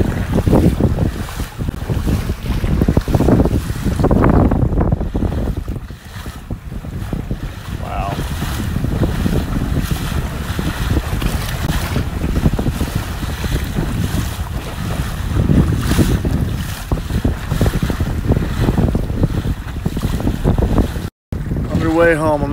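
A sailboat runs on a beam reach at about six knots, with heavy wind buffeting the microphone over rushing water and waves slapping the hull, loud and continuous.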